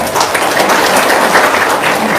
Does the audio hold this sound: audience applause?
yes